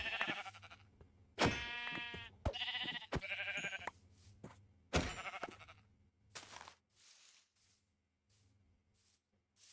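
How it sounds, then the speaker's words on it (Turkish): Sheep in Minecraft bleat several times close by, loud wavering calls in quick succession over a low game background, fading into quieter rustling toward the end. "Koyunlar var onları alalım."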